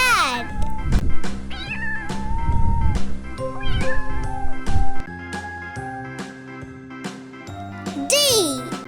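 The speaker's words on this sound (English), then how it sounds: "Cat." A cat meows several times, clear and near, in rising and falling calls set against bright jingly music and childlike voices.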